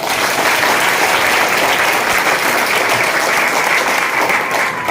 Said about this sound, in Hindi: आपके लिए जोरदार ताली हो जाए।